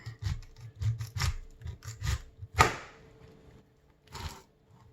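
A knife trims a pink pineapple with repeated rough rasping, scraping strokes in an uneven rhythm, close by, with one sharper cut partway through and no talking.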